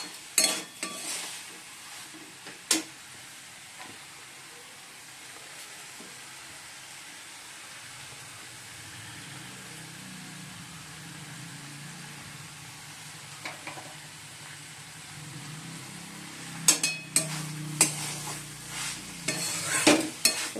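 Banana stem curry being stirred in a pan with ghee gives soft scraping strokes over a faint low sizzle, busier at the start and again near the end, with no voices.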